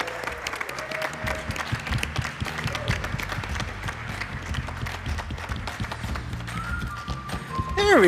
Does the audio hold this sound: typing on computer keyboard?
no